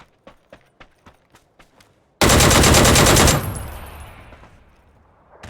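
PUBG gunfire at ultra settings: a quick series of single shots, then a loud sustained burst of automatic fire that fades into a long echoing tail, close and loud.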